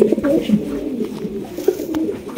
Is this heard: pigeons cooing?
yes